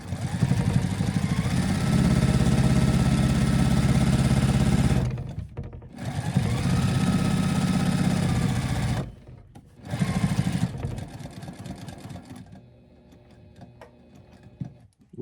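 Home sewing machine running a 2.5 mm stitch length while piecing a patchwork hoodie, loud steady whirring in long bursts with two brief pauses, then slowing to a quieter, lighter run near the end.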